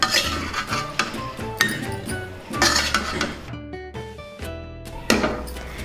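Taro root fry being stirred in a pan: metal spoon scrapes and clinks against the cookware in an irregular rhythm, close and fairly loud, with no talking.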